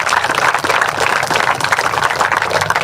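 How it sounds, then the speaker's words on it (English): Big round of applause from a crowd at a KCC junior and schools under-14 championship final, dense continuous clapping throughout, fairly loud and steady with no break. "I think a big round of applause for all these guys"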